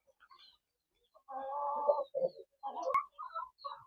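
A rooster kept for breeding on a poultry farm gives a short, close crowing call followed by a few clucking notes, with quiet gaps between.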